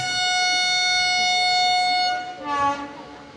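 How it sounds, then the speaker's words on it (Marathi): A train stopped at Thakurwadi village on the Bor Ghat route near Lonavala sounds a loud, steady horn for about two seconds. The horn fades and a brief voice follows. "इथं आमची ट्रेन आता थांबली आहे."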